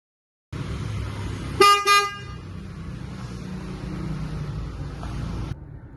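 Leapmotor T03 car horn triggered by the one-key vehicle locating function, two short honks near the start over steady outdoor background noise, followed by a quieter ambient stretch.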